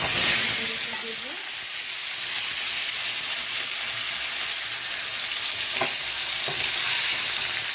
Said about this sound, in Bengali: কড়াইতে তেল দিয়ে দিয়েছি, জিরে দিয়েছি